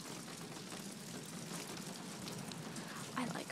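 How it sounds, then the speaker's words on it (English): Steady rain falling on a shiny street and on trash and recycling cans, a continuous hiss of drops and patter heard from nearby at low volume, with a brief louder splash near the end. "It's rain."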